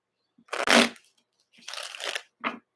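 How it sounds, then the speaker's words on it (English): A deck of tarot cards being shuffled by hand, with two longer riffling bursts and a short final snap, close and crisp against silence. "I split the deck to shuffle"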